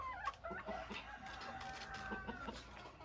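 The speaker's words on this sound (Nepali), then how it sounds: "सबैजना आऊ घाँस खाने कुखुराहरू आऊ" Farm chickens cluck close by with soft, irregular clucks and murmurs while a person calls them in to eat, the calling voice mixed in at low volume.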